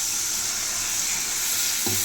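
Steady sizzling and bubbling as tamarind water simmers in a curry pan on the stove, a constant hiss throughout with a brief clink near the end.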